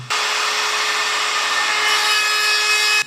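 DeWalt DCE555 cordless multi-cutter slicing through an 8 mm SmartBoard fiber-cement sheet, giving a loud, steady, shrill whine that runs unbroken for about three seconds and stops abruptly, with no talk.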